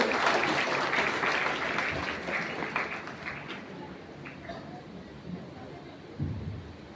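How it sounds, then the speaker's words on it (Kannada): Audience applause at a stage event welcoming a community federation secretary, a dense burst of clapping that starts loud and gradually thins out, with some crowd murmur. "ಜೋರಾಗಿ ಚಪ್ಪಾಳೆ ತಕ್ಕಬೇಕಂತ ಹೇಳಿ"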